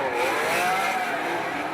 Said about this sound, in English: the FCRX7 gets down, smashes the gas and tries to tuck in underneath